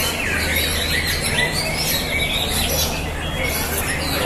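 Many songbirds sing at once at a bird-song contest held on two fields at Bogor Allstar Arena, forming a dense, steady chorus of overlapping high chirps and trills over a constant low hum.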